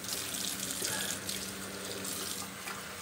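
Hot water runs from a tap into a sink during a shave, a steady loud close splashing rush with no talk over it.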